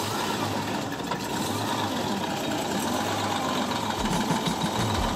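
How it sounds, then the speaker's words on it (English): A converted bus's engine, not run for a while, runs with a steady, loud, broadband rumble throughout, close by, with no talking. "we're going to start the engine"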